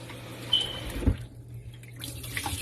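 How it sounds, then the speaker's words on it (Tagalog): Rice is rinsed under a running kitchen tap, a soft steady trickle of water with a few splashes and clinks in a quiet room. "Hugasan natin lang isa pa"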